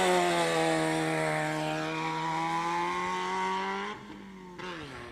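Rallycross cars at the start line of a motorsport round hold loud, high, sustained engine revs, then launch with a sudden pitch shift and a drop in roar, with no talking.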